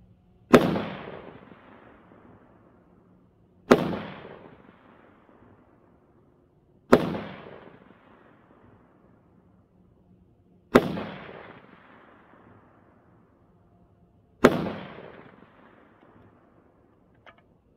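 Five single rifle shots from a Lockhart Tactical Raven 5.56 fired at targets, each a sharp loud crack with a short decaying echo, spaced about three to four seconds apart in an otherwise quiet outdoor setting.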